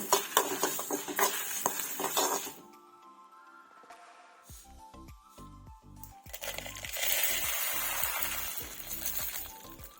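Fenugreek, mustard seeds and dried chillies roast and crackle in a pan over a low flame, with scraping stirs and soft popping that come in bursts, go quiet and then build again, close and moderately loud.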